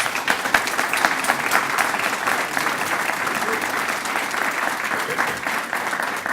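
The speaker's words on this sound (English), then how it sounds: "Y'all give them a round of applause." Audience members at a Tupelo community morning event give a round of applause to the panel, sustained, even clapping from a sizable crowd with crisp individual claps throughout.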